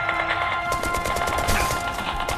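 Rapid gunfire from the mobile shooter game BIA3, a dense burst of repeated shots layered over the game's steady background music and ambience.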